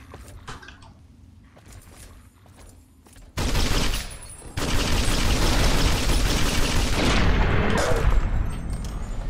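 Big gun firing .50 caliber rounds in the Fallout New Vegas video game: a few scattered cracks, then a loud, sustained barrage of heavy, dense fire that continues to the end.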